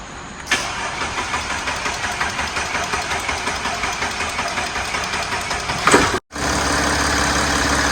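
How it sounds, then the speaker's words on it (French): A car engine cranks on a battery booster in rapid, even pulses for several seconds, then catches and settles into a steady idle. "là le moteur, il est en route, le booster, ça a bien marché"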